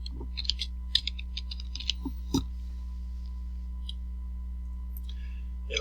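Irregular bursts of quick key clicks from a computer keyboard sound close and crisp over a low steady electrical hum, tapering into sparse taps by the end.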